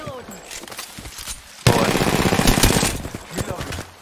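Shotgun fire in Apex Legends: a loud sudden burst of gunfire midway erupts into rapid heavy blasts over a second, following quieter clatter, with a voice speaking briefly underneath.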